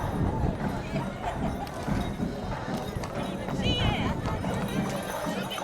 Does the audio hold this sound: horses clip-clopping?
yes